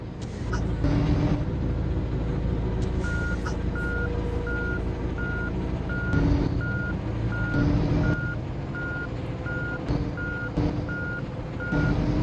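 Reversing beeps from a truck parking its trailer in a truck-driving video game, a Cyborg R Ranger 2021 rig, sounding as a steady, evenly spaced series of loud tones over continuous engine rumble, with no speech.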